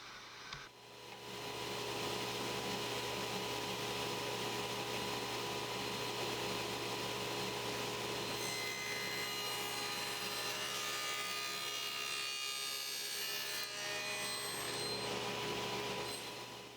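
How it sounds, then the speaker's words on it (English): A saw blade cuts dados into wooden side pieces for a box with live edge drawers, a loud, steady machine whine running without a break for most of the stretch after a brief quieter start. "I'm cutting some dados in the side pieces"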